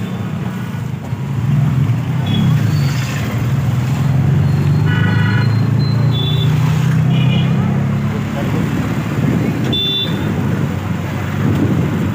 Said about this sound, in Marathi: रिक्षानं चाललो आहे आता